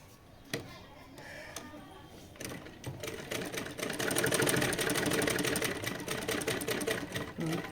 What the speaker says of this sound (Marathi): आणि आता आपण याला टीप मारून घेऊया